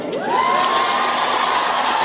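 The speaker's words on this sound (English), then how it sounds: "we see applause erupting when somebody says something like this" Loud crowd cheering swells, with a rising whoop from one voice and shouting blended into a steady roar.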